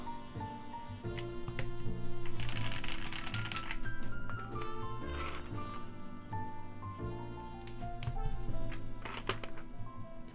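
Typing on a custom mechanical keyboard with an RGB PCB, a dense run of sharp clicky keystrokes with irregular rhythm, close and fairly loud, with faint background hum and no talking.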